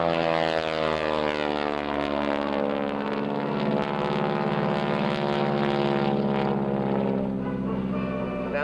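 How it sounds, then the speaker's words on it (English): A T-6 propeller airplane drones loudly overhead during an aerobatic pitch-up and roll at an air force base open house, its engine tone sweeping and shifting in pitch as it maneuvers, then easing slightly at the end. "He's going to pitch the airplane up and roll the airplane one time for us."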